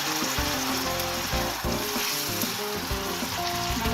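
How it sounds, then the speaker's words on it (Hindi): Garlic and ginger dropped into a pan of softened onions set off a loud, continuous close-up sizzle and crackle with no voices. "इसमें लहसुन अदरक डालना है।"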